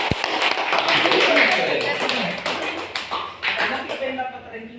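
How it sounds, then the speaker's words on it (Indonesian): A classroom of students claps for their classmates, a dense, steady patter of hands that swells early and then thins out, with voices talking over it. "Tepuk tangan dulu untuk teman-teman."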